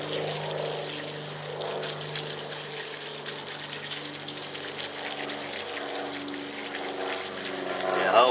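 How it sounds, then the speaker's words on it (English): Water runs and trickles steadily over clay pellets as they are rinsed, a continuous pouring wash close by with someone talking faintly underneath. "we're gonna rinse our clay pellets"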